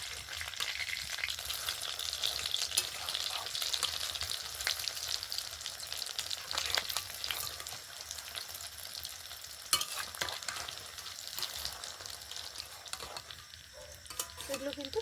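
Potato-stuffed, egg-coated snacks fry in hot oil with a soft, continuous sizzle and occasional light clinks and stirring noises, fairly quiet and without talk.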